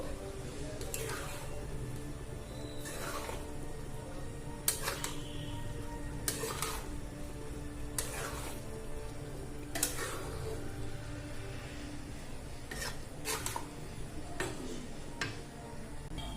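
A spoon stirs pulao in a pot after garam masala goes in, making faint, periodic scraping strokes spaced a second or two apart over a quiet background, with a voice now and then.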